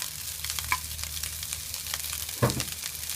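Fried rice with salted fish and blanched asparagus stir-frying over high heat, a steady close sizzle with a couple of sharp scraping clacks of the spatula against the pan.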